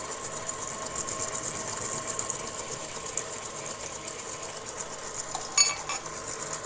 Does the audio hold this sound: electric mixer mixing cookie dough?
yes